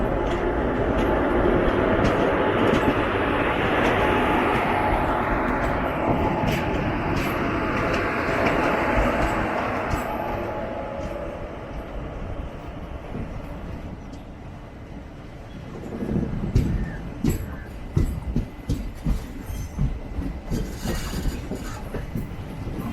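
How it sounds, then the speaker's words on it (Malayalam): A goods train hauled by twin WAG-7 electric locomotives passes close by with a steady, loud rumble of wagons, then fades before a rhythmic clickety-clack of wheels over rail joints takes over near the end. "ട്വിൻ വാഗ് 7s ആണ് ഗുഡ്സിൻ്റെ ലോക്കോ."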